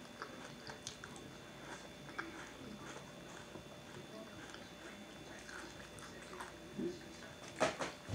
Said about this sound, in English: Let me just eat a bowl of cereal.